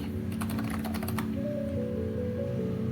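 Computer keyboard typing, a quick run of crisp key clicks close to the microphone over a steady background hum, then the keys fall silent.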